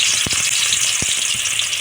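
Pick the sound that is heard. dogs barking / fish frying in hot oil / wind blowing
fish frying in hot oil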